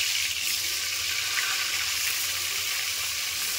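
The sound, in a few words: pointed gourd (potol) frying in hot oil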